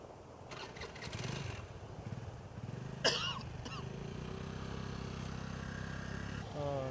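A car rumbles past nearby on a flooded road in Kilinochchi, its engine noise swelling and fading, with a sharp clatter midway and faint voices in the background.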